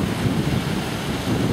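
Surf rolls onto the Gulf of Mexico shore at Tampa, Florida, a loud, steady wash of breaking waves mixed with heavy wind buffeting the microphone, with no voices.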